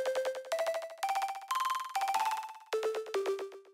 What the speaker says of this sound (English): mix is at 100, so it's a fully distorted sound